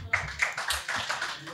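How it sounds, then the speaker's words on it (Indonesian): An audience at a panel discussion applauds a guest with light, scattered clapping, fairly faint and steady for over a second, with no voices over it. "boleh tepuk tangan Gus Ulil"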